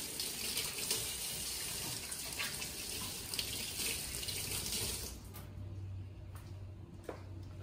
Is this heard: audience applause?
no